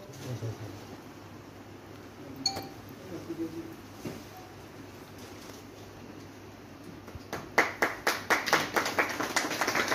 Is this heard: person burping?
no